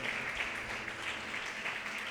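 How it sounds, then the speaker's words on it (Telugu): A women's congregation at a special fasting church service claps together in a dense, continuous wash of applause, fairly distant and even throughout. "బిగ్గరగా చప్పట్లు కొడుతూ దేవనామాన్ని మహిమపరుద్దాం"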